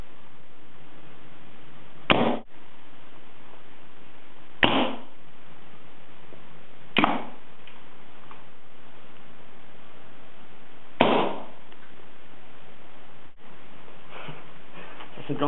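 Home-made darts shot from a mini potato cannon (mini Patator) strike a wall, giving four sharp, loud impact cracks spaced a couple of seconds apart over a steady background hiss.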